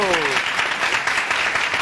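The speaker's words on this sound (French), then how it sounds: "Applaudissements pour lui, s'il vous plaît." Studio audience applause on the Burkina Faso television show Le Samandé, a dense burst of clapping that starts under a voice and then carries on alone for under two seconds.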